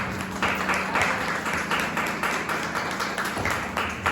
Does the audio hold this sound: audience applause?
yes